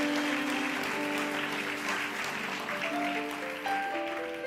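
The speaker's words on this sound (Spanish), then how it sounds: "Si vas a aplaudir, aplaude fuerte para Dios." A church congregation applauding, a moderately distant wash of clapping heard over sustained musical tones.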